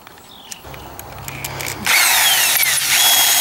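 A hammer drill bores into a metal end piece held in a clamp, starting with light taps and a low whir, then surging into a loud, harsh, continuous grinding drone for the final stretch.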